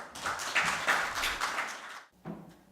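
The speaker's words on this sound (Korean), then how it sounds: "이상국 교수님을 박수로 맞이해 주시기 바랍니다" Faint applause from a seminar audience greeting the keynote speaker at an association's founding ceremony, a steady patter for about two seconds that cuts off abruptly, followed by a brief, softer burst.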